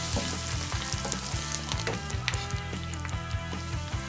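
Curry leaves crackling and sizzling in hot oil over softened onions in a pan for fried shrimp, a steady dense sizzle with scattered pops and stirring clicks, close and continuous with no talking.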